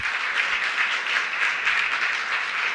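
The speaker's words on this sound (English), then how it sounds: "Give him a big round of applause." Audience applause at an Emancipation Day breakfast event, a steady, even wash of many hands clapping throughout with no clear gaps.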